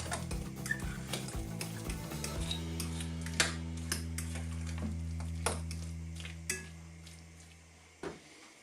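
Mashed potatoes being creamed with butter and whole milk in a pot for bangers and mash: a utensil clinks and scrapes against the pan at irregular moments over a steady background hum.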